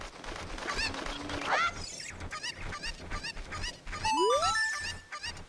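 Cuccos, the chickens of Zelda: Ocarina of Time, let out squawks and clucks, with a short burst of bird cries early and a rising chime-like game jingle near the end.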